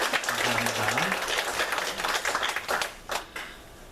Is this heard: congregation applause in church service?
yes